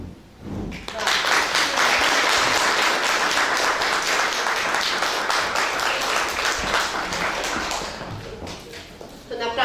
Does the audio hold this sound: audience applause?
yes